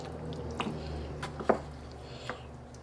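Leftovers with fresh lemon juice get stirred in a pot, giving soft wet squishes and light clinks of a utensil, quiet and close with no talking.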